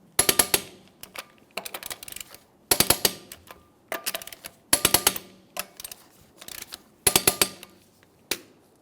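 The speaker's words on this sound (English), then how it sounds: "let's go ahead and torque these." A ratcheting wrench tightening the lug nuts on a Jeep Wrangler wheel, seven or eight sharp bursts of rapid loud clicks separated by short pauses, close by with no talk.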